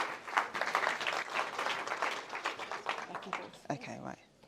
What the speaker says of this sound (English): Can we give a big round of applause for Claudine?